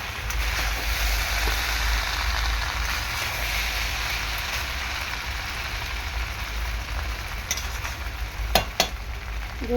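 Boiled chowmein noodles being mixed and stirred in a hot pan, a steady rain-like sizzle throughout with a few sharp clinks of the utensil near the end, close and without talk.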